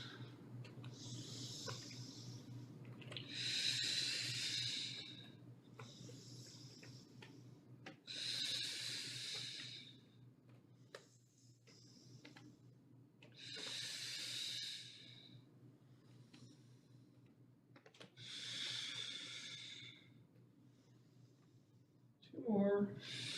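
Slow, steady yoga breathing during a floor sequence of opposite arm and leg lifts, with five or six long airy breath cycles evenly paced over a low background hum, close to the microphone.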